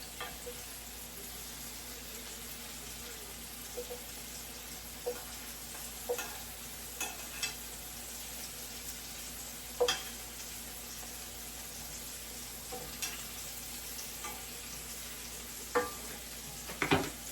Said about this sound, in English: you just want to turn them until they're brown on all sides